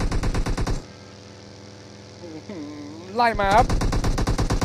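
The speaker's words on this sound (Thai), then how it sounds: "ยิงกันใหญ่แล้ว" Rapid automatic gunfire in a competitive mobile battle game match, dense bursts opening and closing the clip around a quieter stretch with a rising electronic whine, while a commentator speaks briefly.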